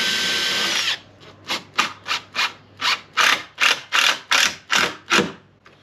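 Cordless power drill driving a screw into an exterior door frame, a run of about eleven short rising whirs in quick succession, close and clear, with a brief burst of noise before them.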